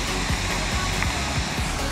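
A river flowing at night, a steady broadband rush of water with constant, fairly loud noise and a few faint low thumps underneath.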